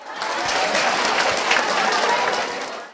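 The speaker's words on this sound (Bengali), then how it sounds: "সবাই জোরে একটি হাততালি।" A school quiz competition audience at Nasima Kadir Molla High School and Homes bursts into dense, steady applause that fills the full three seconds at an even level before tapering slightly at the end.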